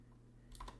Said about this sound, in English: So I hit my Windows key, and I type terminal